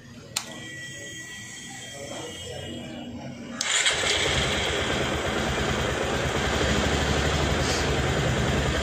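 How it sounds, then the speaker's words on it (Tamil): A Bajaj Pulsar 150 BS6 motorcycle with a starting problem cranks and fires after a quiet start with a click, then settles into a loud, steady idle. "இப்போ வந்து வண்டியை வந்து ஸ்டார்ட் பண்ணலாம்."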